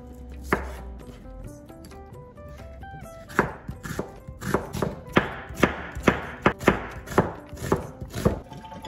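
Knife slicing cucumber and onion on a board, starting with a few scattered cuts and building to a fast, regular run of sharp chopping thuds, close and clear over faint background music.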